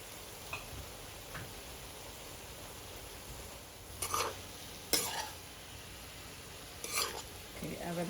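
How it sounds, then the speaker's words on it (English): Vegan soy chunks sauté in a pan with aji-no-moto seasoning, a quiet, steady frying hiss broken by a few sharper clinks and scrapes of a utensil against the pan. "let this saute for like 10 minutes"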